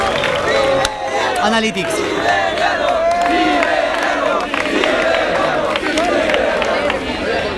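Audience at a Spanish-language rap battle cheering, shouting and clapping, a loud and dense crowd roar that continues throughout the clip.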